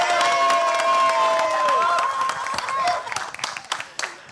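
Crowd at the launch event for the film trailer The Trial, starring Kajol and Jishu Sen, applauding and cheering: loud continuous clapping with whoops and shouts that thins into scattered claps near the end.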